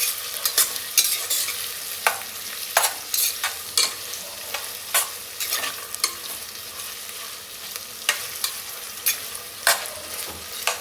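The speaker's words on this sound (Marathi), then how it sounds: "दोन मिनिटभर आपण याला परतून घेऊ।" Onion sautéing in a pan for green chicken pulao, with a steady low sizzle broken by repeated sharp scrapes and clinks of a spoon stirring, close and alone with no voices.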